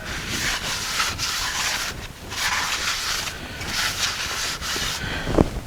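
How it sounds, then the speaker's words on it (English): A rag rubs across an engine flywheel surface soaked in brake cleaner, giving a close, steady scrubbing sound in repeated strokes with brief pauses. "Clean the surface of the flywheel with brake cleaner."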